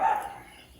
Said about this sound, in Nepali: बाहिर कुकुर भुकिरहेछ